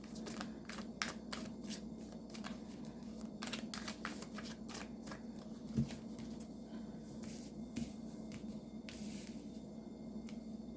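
Soft, steady shuffling of tarot cards close by, crisp riffles and slides repeating over a quiet background hum, with no talking.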